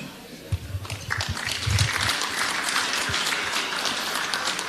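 Lukewarm crowd applause at an amateur Australian football awards night at the Belmont 16 Footers club, a diffuse wash of scattered clapping under a low murmur of voices, with a few louder thumps near the start.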